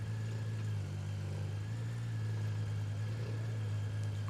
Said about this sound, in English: Go on, scream its engine out.